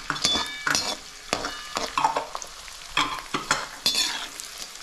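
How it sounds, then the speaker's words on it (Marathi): Edible gum (dink) frying in oil for methi ladoo, heard as bursts of crackling sizzle and stirring scrapes against the pan in an uneven rhythm, close and alone without talk. "डिंक आपण थोडंसंच घालून घेतो याच्यामध्ये. एकदाच नाही तळून घ्यायचं आहे"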